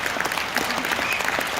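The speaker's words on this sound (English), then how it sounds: "You can clap all you want." An audience at a global business convention claps in a brief, dense burst, with sharp hand claps and a slight crowd murmur that stay even in level.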